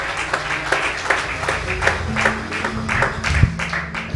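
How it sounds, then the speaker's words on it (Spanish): A church congregation at an evangelistic service on Bonaire claps in a lively, rhythmic beat of repeated sharp hand claps, close and fairly loud, with faint voices beneath. "Un aplauso, alabanza al Señor."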